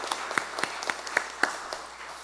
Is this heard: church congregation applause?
yes